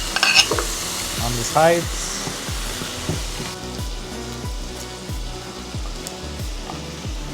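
A top sirloin steak sizzles loudly in butter in a pan, a continuous frying hiss with repeated scraping strokes as it is moved around and a brief spoken remark early on.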